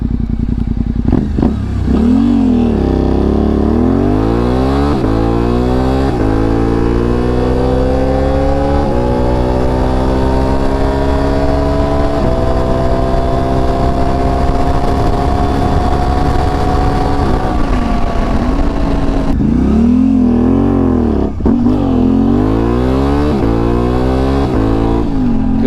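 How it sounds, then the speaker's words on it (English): Middleweight adventure motorcycle launching hard from a standstill, engine revving loud and close with rising pitch as it accelerates through gears, a steady high drone before dropping back to a throbbing idle and revving again. "This bike is by far the hardest to launch."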